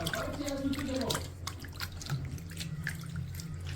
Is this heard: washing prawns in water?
yes